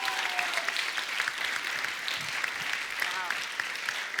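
Studio audience applauding on The Kapil Sharma Show, a dense continuous wash of clapping from a large crowd, steady and fairly loud throughout with faint voices mixed in.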